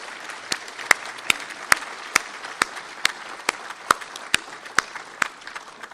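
Audience at a New Year's civic reception in Alluin applauds the local accordion society, a steady, dense clapping with sharp individual claps popping out at a regular rhythm throughout.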